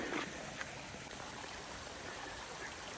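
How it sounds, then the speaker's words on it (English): Creek water along an Appalachian Trail hiking route, flowing in a steady, continuous rushing wash, close and even throughout, with no talking. "Here is the creek"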